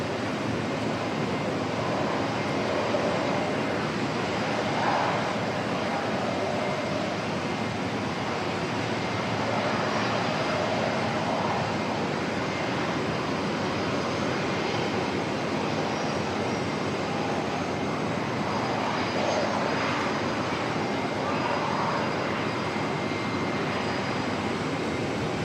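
Airliner jet engines rumble steadily at Auckland Airport, a broad, constant roar that holds across the whole stretch without breaks, distant and even, with no voices present.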